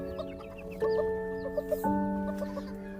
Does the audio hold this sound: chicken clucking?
yes